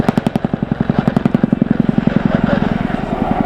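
Chinook twin-rotor helicopter flown by 27 Squadron in a nose-down spiral descent at the Royal International Air Tattoo air display, a loud close rapid blade thump pulsing steadily, with turbine whine above it.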